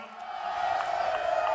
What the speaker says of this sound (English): You hear the crowd getting really loud.